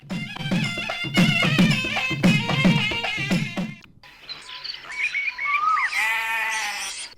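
Sheep on a sheep farm bleat in repeated loud, wavering calls close by. A more distant, higher bleating chorus follows after a short pause.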